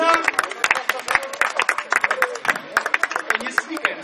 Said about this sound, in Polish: Państwa, wielkie brawa!